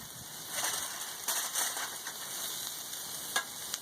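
Onion and zucchini fry in a pan with a soft, steady sizzle, faint and close, with a few light clicks of stirring and no talking.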